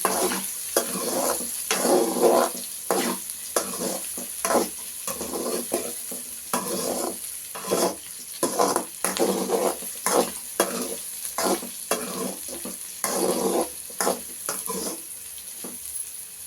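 Pieces of banana stem fry in oil for a Telugu chutney while being stirred, a close sizzle broken by repeated scraping strokes of the spoon in an uneven rhythm, with no voices.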